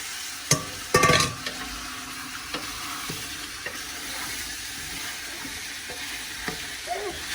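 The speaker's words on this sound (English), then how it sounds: "I'm going to go back in with my beef and all the juices that are in the pot" Steady soft sizzle as browned beef and its juices go back into a goulash pot, with a few sharp clinks and stirring knocks early on and faint scrapes later.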